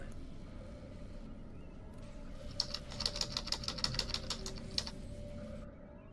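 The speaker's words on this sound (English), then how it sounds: "Slap that keyboard." Rapid keyboard typing during a space-combat game session, a quick clattering burst of keystrokes over steady background hum, fairly close, with a voice faintly present.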